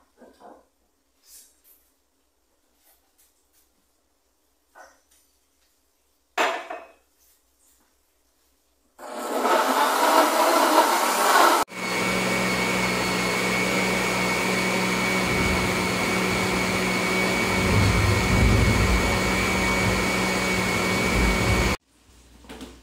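Carrot cake batter being beaten with an electric mixer, a steady loud motor whir that runs unbroken for about ten seconds and then stops abruptly, preceded by a shorter burst and some quiet kitchen handling.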